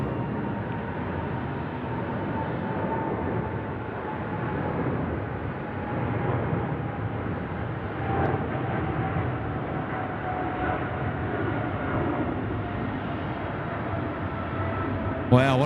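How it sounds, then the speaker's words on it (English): An Emirates SkyCargo Boeing 777 freighter with big GE90 engines takes off at night from Sydney Airport, a broad steady jet roar with a faint whining tone, held at a distance throughout, with people talking. "They boogie, don't they? Those big GE90s spooled away."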